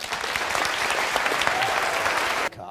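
A studio audience at a televised leaders' question session breaks into loud, dense applause that fills the room, then cuts off abruptly near the end.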